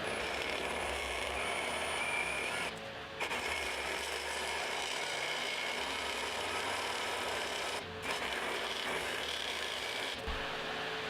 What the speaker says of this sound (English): So I finally got this hole drilled.